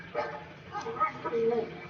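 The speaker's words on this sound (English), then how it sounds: "that dog giving him shit. That's a cockapoo." Small cockapoo dog barking in short yappy bursts close by, mixed with a background voice and game sounds.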